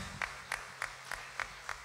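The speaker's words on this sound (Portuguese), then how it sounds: "Eu queria que dessemos uma salva de palmas ao nosso Deus." Six evenly spaced claps ring out in a steady rhythm during a church service, fairly faint against a noisy background wash.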